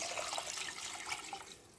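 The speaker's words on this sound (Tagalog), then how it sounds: "Dagdagan ko ng tubig." Water poured into a soup pot while cooking pork bone soup, a soft steady splashing and trickling stream, faint and close with no talk.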